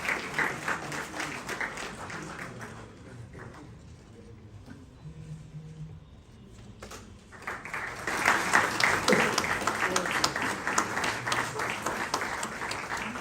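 Audience applause at a book launch ceremony for a Vedic text, a long burst of clapping that eases off midway and then swells again louder, filling the hall.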